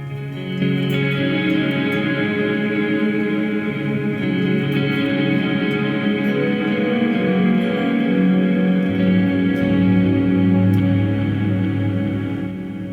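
Electric guitar through a Line 6 Helix plays slow sustained notes drenched in delay and reverb, the echoes blurring into a continuous, spacious wash that swells and shifts.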